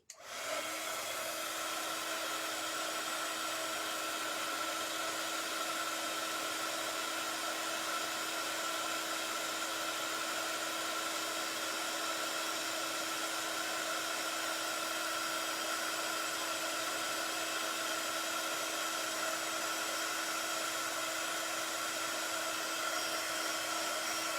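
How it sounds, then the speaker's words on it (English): A heat gun blows hot air to dry white paint on a painted Christmas card, giving a loud, steady, close whirring roar that runs on without a break and with no talk over it. "So I'm just going to heat gun this, so it will sound a bit like I'm blowing my hair"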